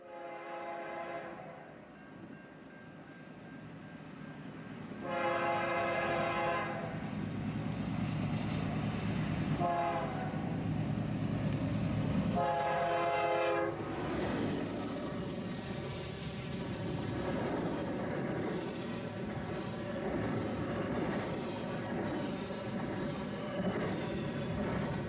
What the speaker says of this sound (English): another eastbound intermodal rolls through on track number 2